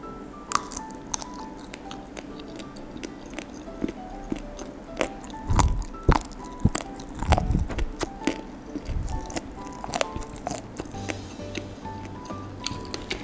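Spicy fried beef cartilage, tulang rangu mercon, is chewed close to the mic, giving loud, repeated crisp crunches and wet squishy bites in an irregular rhythm over about thirteen seconds.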